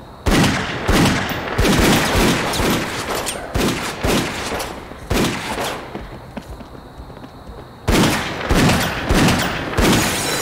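Gunfire in the video game Dead Second comes as loud, repeated bursts of sharp shots, clustered in volleys with a brief lull before a final barrage.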